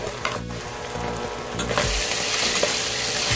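Chopped garlic and onion sizzle and crackle in a hot pan for a carbonara, with stirring scrapes over a dense, close frying hiss that swells near the end; no one speaks.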